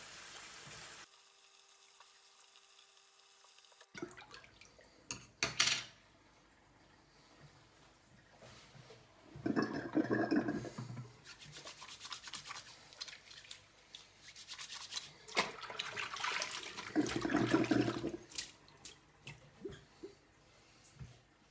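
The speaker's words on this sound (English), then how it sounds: "once I pull the plug, you'll actually see that the water drains out of the sink much quicker than it did before" Water draining out of a bathroom sink after the plug is pulled, a low rushing and gurgling that swells in two louder surges, with rubbing and handling noises nearby.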